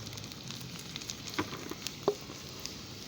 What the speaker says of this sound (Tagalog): malakas yung apoy natin pine tree